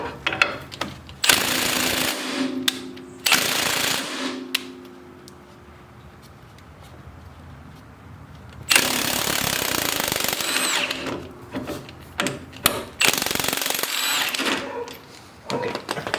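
Impact wrench on an 18 mm sway bar bolt of a Jeep WK during a suspension lift, firing in loud close bursts with a quieter gap in the middle before more rattling hammering runs.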